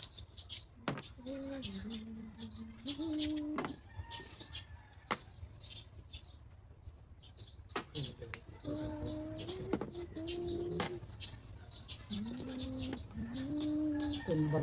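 Soft cooing from pigeons or doves mixes with chirps and a few sharp clicks, fairly faint against a low background hum.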